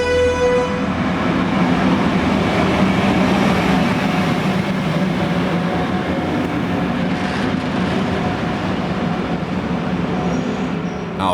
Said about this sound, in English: Our train journey continues through the Inn Valley